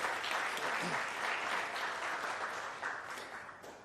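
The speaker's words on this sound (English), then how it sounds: "we can give her a round of applause" A crowd at a dairy awards ceremony applauds steadily, a dense patter of clapping that fades slightly toward the end.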